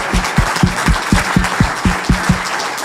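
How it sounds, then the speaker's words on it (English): A seated audience applauds after a talk on U.S.-Europe relations. The clapping is loud and continuous, with a regular low thumping under the mass of hands. "I just wanted to thank you all and ask for another round of applause."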